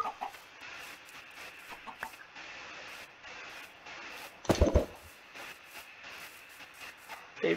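A Minecraft chicken clucking in the game's flower biome, a few soft scattered clucks over a faint background, with one louder burst near the middle.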